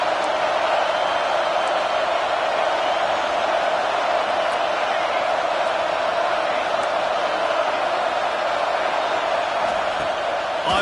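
A stadium crowd roars in a college football video game, a dense, steady wall of cheering and crowd noise that holds at a constant loud level throughout with no pauses.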